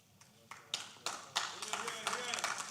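Applause builds from scattered claps into a fuller round across the room at a company's annual general meeting of shareholders, with a voice audible in the background.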